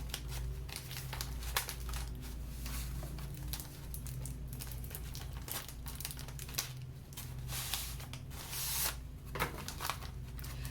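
A cardboard plant shipping box is cut open with scissors, giving steady rustling, crinkling and tearing noises with scattered sharper snips, all fairly quiet and close with no voices.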